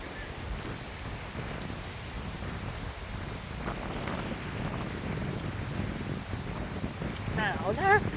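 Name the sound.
strong wind during storm Wipha on a mountain top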